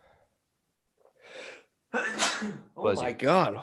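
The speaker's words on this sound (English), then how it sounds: "Sneeze attack. There's more coming." A sneeze attack: a short breathy burst followed by a second, louder sneeze, and then a person speaks close up.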